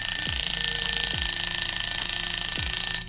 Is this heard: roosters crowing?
no